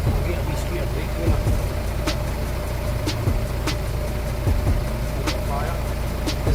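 A reconditioned Ford Capri engine cranks over slowly and steadily without firing, a low continuous churning with sharp clicks scattered through it, while voices talk nearby.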